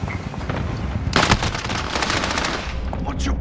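Rapid automatic gunfire from a Call of Duty: Modern Warfare match, a dense burst of shots swelling loud at about one second and continuing in quick bursts over a steady combat din.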